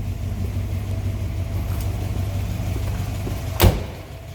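A 1952 Studebaker Commander convertible's stock 233 cubic inch V8 idles steadily nearby with a low rumbling hum, and a single sharp thump cuts in near the end.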